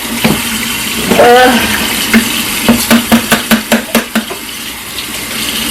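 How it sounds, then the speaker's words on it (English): Running tap water and scrubbing of a Caraway pot in a kitchen sink, with a burst of splashing followed by a quick run of rhythmic scrubbing strokes, close and loud, no talk. "I am barely scrubbing this pot, okay?"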